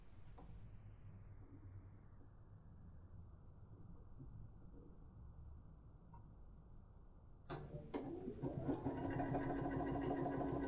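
Sewing machine stitching through several fabric layers of a pouch, with a soft room hum first and then a motor starting up near the end into a steady, close mechanical whirr.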